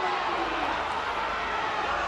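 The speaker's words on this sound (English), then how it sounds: "Crowd baying for a penalty." Rugby crowd at a Glasgow Warriors versus Ulster PRO12 match, a steady loud roar of massed voices filling the stadium, continuous and unbroken throughout.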